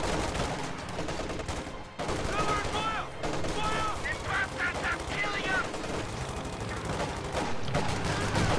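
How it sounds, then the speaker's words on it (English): A multiplayer video game battle fills with crackling gunfire, bursts of automatic fire and explosive blasts, steady and dense throughout, with a voice talking over the action. "Grenade going off on those Oversoldat, and they'll be forced to retreat."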